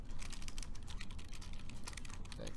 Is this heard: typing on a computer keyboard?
yes